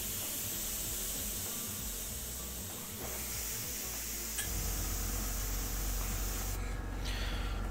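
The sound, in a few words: airbrush spraying paint on a model X-Wing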